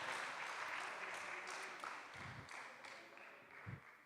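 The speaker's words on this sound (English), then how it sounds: "an applause to this wonderful panel" Applause for a panel at a kick-off meeting, a sustained wash of clapping that stays fairly steady and then gradually thins out.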